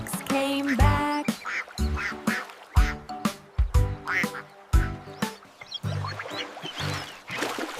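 Repeated duck quacks in a lively rhythm, loud and close, with what sounds like a voice imitating the calls in a sing-song way.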